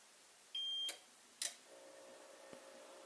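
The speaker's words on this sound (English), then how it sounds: "press and hold the on button and wait for a long beep" A steady electronic beep from an APC Smart-UPS tower unit during a cold start holds for a moment, followed by a couple of sharp clicks and a faint low hum starting up in a quiet room.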